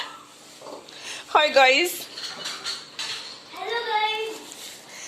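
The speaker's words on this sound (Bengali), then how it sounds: "এবার ঝালমুখী মুড়ি মাখা হচ্ছে" Spicy puffed rice, jhalmuri, is tossed and stirred in a bowl with a metal spoon, giving a steady scraping and clinking close by, while voices talk over the mixing.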